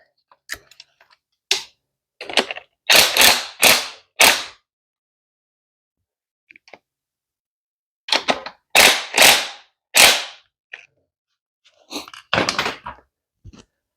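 A ratchet tightens the tensioner bolt on an engine being prepped, sharp close clicking bursts in short rapid groups separated by silent pauses.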